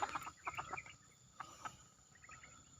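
A chicken clucks in a few short bursts, faint and somewhat distant, against a quiet outdoor background with a steady high whine.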